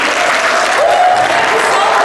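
Audience applause for an entrepreneur coming on stage at an Empower Afriq graduation event, a steady dense wash of clapping for about two seconds with a faint voice over it.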